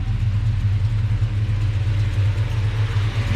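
A Chevrolet Silverado engine runs at a steady idle, a close, even low rumble with no voices.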